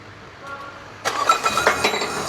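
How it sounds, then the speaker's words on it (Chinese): A car engine cranks and catches after a second of near quiet, then runs loudly and unevenly for a moment. The crankshaft pulley has fallen off the engine and the drive belt is burnt out. "来启动发动机。"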